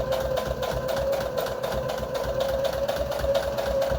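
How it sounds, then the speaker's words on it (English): A sewing machine stitching a straight line across a foundation paper pieced quilt block, a steady close mechanical hum with rapid rhythmic needle chatter running continuously. "we're just going to sew straight down the line"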